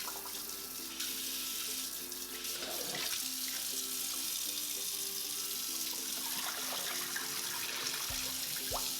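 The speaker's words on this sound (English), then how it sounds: "rinse the pork belly with running water" Tap water runs steadily into a sink as raw pork belly is rinsed under it for braised pork belly, a continuous splashing hiss with occasional clatters, close and unbroken throughout with no talk.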